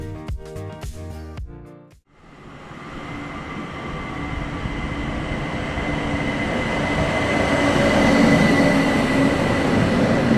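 A Bombardier Talent electric train rolls into a station and keeps approaching, a rising broad rumble of wheels and motors growing louder over several seconds, with faint squealing tones near the end.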